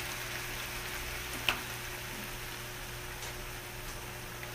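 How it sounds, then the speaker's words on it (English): Cauliflower frying in a pan gives a faint, steady, fine crackling hiss throughout, with one small sharp tick partway through and a low background hum. "what I'm doing now is I'm going to put some cauliflower right up in here"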